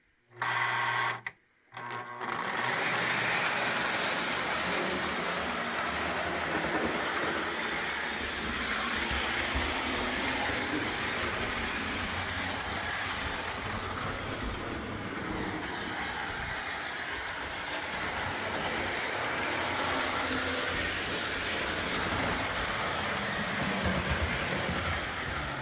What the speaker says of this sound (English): it's going to have to be my magnet traction locomotives, I believe. So let's see what happens when I get this guy going.